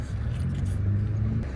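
A low, steady engine hum and road rumble fill the cabin of a newly bought car on the move, heard from inside, with a faint voice in the background.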